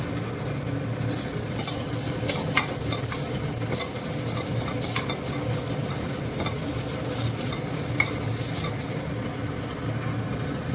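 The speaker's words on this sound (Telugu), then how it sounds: "ఈ రకంగా బ్రౌన్ కలర్ వచ్చేంత వరకు ఫ్రై చేసుకొని మనం టమాటో వేసుకోవాలి" Onions being stirred and fried until brown for tomato rice, a steady close sizzle with continuous scraping of a spatula against the pan and occasional metallic clinks, loud and unbroken throughout, with no talking.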